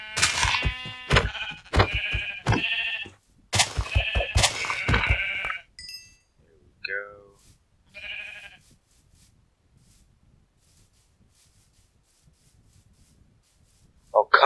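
Sheep in Minecraft bleat loudly and close in a rapid series of calls, then a few quieter bleats follow before near silence.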